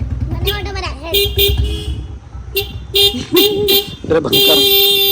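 Several short bursts of vehicle horn honking from an auto rickshaw and bikes on a street. They come in quick succession between lively voices and an engine rumble.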